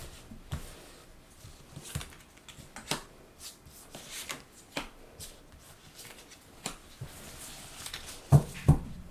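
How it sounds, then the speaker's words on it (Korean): Tarot cards being shuffled by hand at a reading table, a faint, quiet riffling and patting with soft intermittent taps, ending in a couple of sharper knocks as the deck is set down. "제가 타로를 섞어서 바로 뽑아서"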